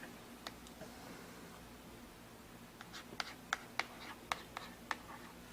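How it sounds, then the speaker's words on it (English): Stylus tapping and scratching across the touchscreen of a Sony Reader PRS-350 Pocket Edition while handwriting, a run of short, crisp ticks that grows busier toward the end over a steady low hum. "there's a full handwriting application. So if you go in and you wanted to write anything on the screen"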